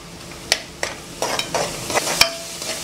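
Curry leaves torn by hand into hot oil with ginger garlic paste for a village-style mutton curry, sharp spatters and crackles popping over a low sizzle, close up.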